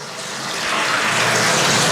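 Water gushes from faucets on makeshift DIY plumbing in a self-built house, a broad hissing rush that swells over the first second and then pours on steadily and loudly.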